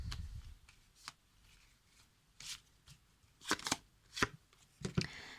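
Tarot cards are shuffled by hand in short, crisp riffling bursts and soft slaps, with quiet gaps between them, close and without talking.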